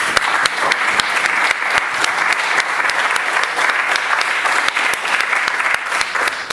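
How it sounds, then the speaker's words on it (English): An audience at a public debate applauds the speakers, a dense, steady burst of clapping from many hands that continues for several seconds without letting up. "If we could all show our appreciation by giving them a round of applause."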